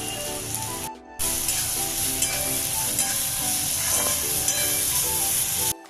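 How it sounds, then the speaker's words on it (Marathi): Garlic and onion fry in oil in a pan with a steady, loud sizzle and stirring scrapes, broken by a brief near-silent gap early on before the frying resumes at full strength. "आता त्याच्यामध्ये मी लसूण घालते कांदा घालून घेते"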